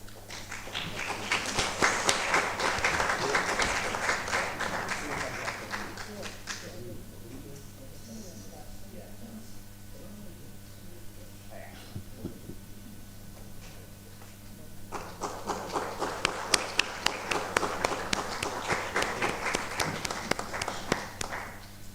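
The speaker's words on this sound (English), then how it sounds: "Another round of applause." A conference crowd at the 2025 Pan African Conference on Teacher Education breaks into loud, sustained applause, fades under a speaking voice, then swells into a second long round of clapping.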